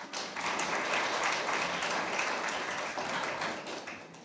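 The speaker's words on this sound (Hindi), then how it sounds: "के लिए तालियां तो बजा ही सकते हैं।" A crowd claps together in a dense, even burst of applause at an indoor event, sustained for a few seconds at moderate distance.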